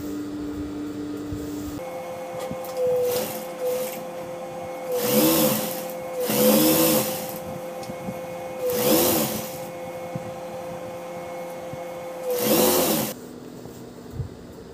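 A sewing machine stitches a Patiala pant in four loud bursts of whirring, each one to two seconds long, separated by quieter pauses with faint handling sounds and a steady low hum underneath.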